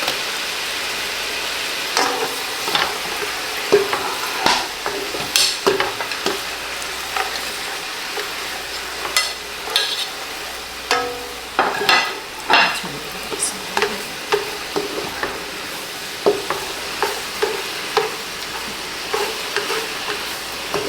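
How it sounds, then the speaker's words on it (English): Garlic fries in a pan with a continuous sizzle, while a spoon stirs it in irregular scraping strokes that come faster and denser toward the end, close up with no voices. "we're going to put our garlic in so that can cook with that."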